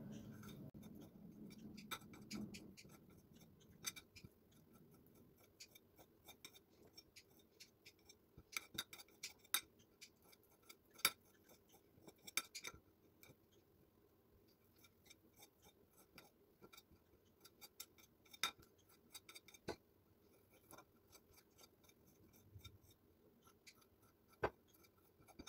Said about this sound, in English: So I'm just going to cut up the chicken.